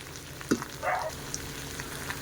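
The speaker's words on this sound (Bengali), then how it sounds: "মশলাগুলো দিয়ে ভালো করে নাড়িয়ে চাড়িয়ে নিচ্ছি।" Ground spices, including turmeric, being fried and stirred in a pan with meat, giving a soft steady sizzle with a few brief scraping and clinking stir sounds.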